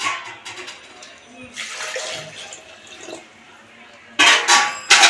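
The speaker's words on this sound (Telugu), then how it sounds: "కుక్కర్లో అయితే వేస్తున్నాం నీళ్ళు వేస్తున్నాను" Water rushes into a pressure cooker in a loud pour near the end, after quieter clinks and handling sounds.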